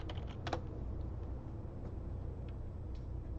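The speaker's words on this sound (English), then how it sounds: "So I'm going to type that into my browser." Soft keystrokes on a computer keyboard, a quick burst of taps at the start followed by a few scattered clicks, faint against a low background hum.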